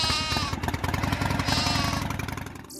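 Sheep or goats bleat in a dense chorus alongside the steady drone of herders' motorbikes on the Gobi and Taklamakan cold deserts, loud and continuous with pulsing engine beats.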